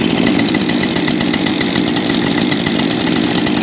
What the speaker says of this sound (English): I'm gonna get the saws warmed up, and we'll start putting them to the test.